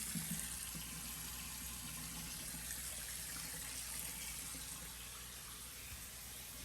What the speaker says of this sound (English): Got the hot water going.